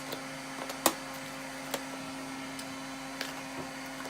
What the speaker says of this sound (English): What you're listening to is me go through my drawer where I have all my stuff.